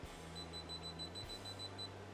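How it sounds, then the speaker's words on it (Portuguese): A Kaiweets KM601 smart multimeter beeps while sensing live voltage near a wall outlet, a steady high electronic tone repeating in short even pulses over a low hum, close and fairly quiet. "Tem um bip"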